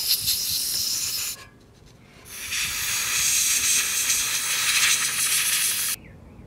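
Compressed 134A duster gas sprays in loud, hissing bursts: a steady hiss, a short pause, then a longer sustained blast that cuts off abruptly. It is close to the microphone and no one speaks.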